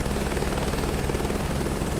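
Helicopter rotor and engine in a flight simulator game, a steady loud thudding rotor chop over a constant engine whine, with no pauses.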